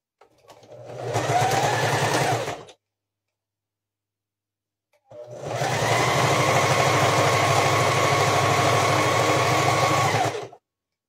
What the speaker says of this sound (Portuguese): Passando uma costura aqui.